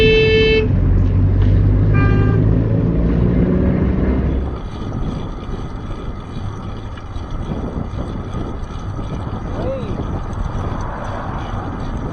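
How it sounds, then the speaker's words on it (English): An SUV driver's car horn honks back in traffic, a couple of loud tonal blasts in the first few seconds, followed by steady road and engine noise with no further horn. "Listen to the fight back horn when they were clearly in the wrong."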